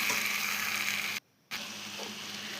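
Vegetables stir-fried with turmeric in a pan give off a steady, hissing sizzle, close and fairly loud, broken by one brief silent gap before the sizzle resumes.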